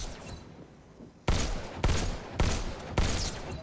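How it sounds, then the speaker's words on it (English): Pistol gunshots in a VR video game, four sharp loud shots spaced roughly half a second apart after a quiet stretch, each with a brief ringing tail. "Just squeeze the trigger to shoot"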